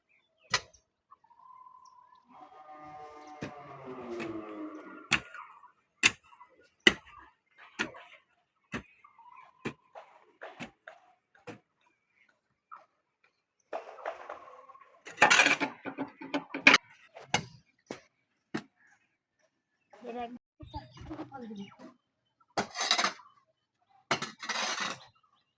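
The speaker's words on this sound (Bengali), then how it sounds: "এই যে আমার ছেলে একটা কোদাল দিয়ে মাটিগুলো সব এখন একসাথে মিশিয়ে নিচ্ছে" A boy mixes soil with a kodal, a village digging hoe, while preparing to plant a pomegranate tree outdoors. The blade gives sharp, isolated scraping strikes at irregular intervals, separated by quiet gaps and occasional faint rustling.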